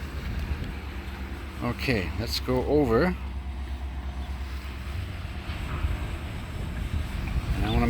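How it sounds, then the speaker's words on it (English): Wind gusts roar steadily outdoors at a drone flying site, a broadband rushing noise buffeting the microphone throughout, with someone speaking briefly over it. "a little bit windy"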